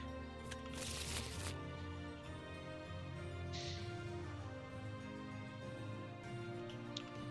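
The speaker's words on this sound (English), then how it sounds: "shuffle all goons back into the villain deck" Cards shuffled by hand as goons go back into the villain deck in a Marvel Legendary tabletop game, a quiet riffle burst near the start followed by softer shuffling taps over a low steady hum.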